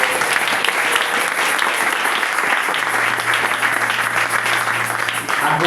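A church congregation applauding loudly and steadily, dense continuous clapping from a crowd gathered in worship, with a faint sustained tone underneath.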